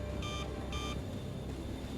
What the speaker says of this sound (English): The beep indicates that he sees you,